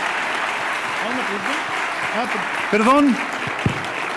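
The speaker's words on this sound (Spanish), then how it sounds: "les agradezco el aplauso por adelantado" Audience applause at a public talk on Mexico's political future, a dense steady wash of clapping that runs throughout, with a voice speaking over it near the end.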